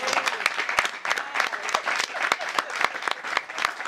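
Audience applause at a Congolese cinema awards event, a sustained patter of many hands clapping at close range for several seconds.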